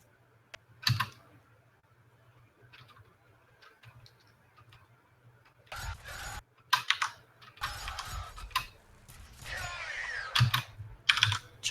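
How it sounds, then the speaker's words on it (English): Computer keyboard typing in short clustered bursts of clicks, fairly close, separated by quiet gaps with a low steady hum underneath, during a Fear Extraction point game session. "Joe's typing an emote."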